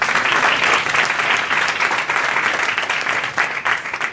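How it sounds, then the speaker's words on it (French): A crowd at a startup pitch marathon event applauds continuously, a thick, even wash of many hands clapping, loud and sustained for several seconds. "On applaudit."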